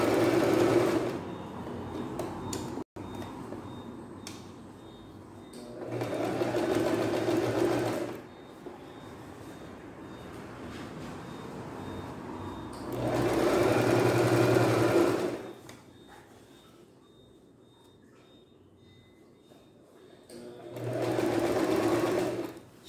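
A sewing machine stitching a seam on a simple beginner's blouse runs in several bursts of steady whirring separated by quieter stretches of handling and low background noise.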